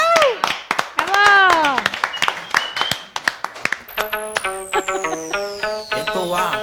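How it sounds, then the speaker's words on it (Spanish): A studio audience on a live morning television show claps in rhythm along to a music track, with sharp repeated hand claps under loud shouting voices and music that builds toward the end. "Y todo el mundo ya sonando las palmas."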